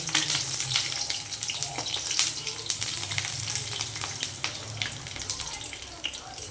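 Lentil fritters (dal bora) frying in hot oil give a steady, dense crackling sizzle, close and fairly loud, with a low hum underneath and no talk.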